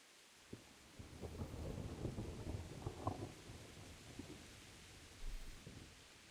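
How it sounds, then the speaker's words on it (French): In the video game Kingdom Come: Deliverance, a low rumble of thunder rolls through, building and fading over several seconds above a soft wash of falling rain. "il pleut tout le temps dans ce jeu"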